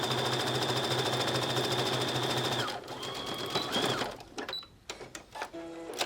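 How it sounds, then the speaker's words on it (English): Sewing machine top stitching a scalloped Madeira applique edge, humming loud and steady with rapid needle strokes, then slowing and stopping, followed by a few clicks and handling sounds. "I'm just going to top stitch"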